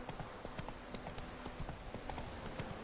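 Hooves of the horse Roach clip-clopping steadily in The Witcher 3 video game, an even walking rhythm of close, soft hoof falls over a dense game background.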